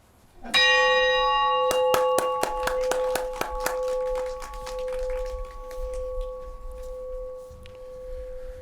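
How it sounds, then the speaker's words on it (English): A bell is rung at a council swearing-in ceremony: one clear clang followed by a quick run of about a dozen strikes that leave a long, ringing tone fading out alone. "Want to ring the bell?"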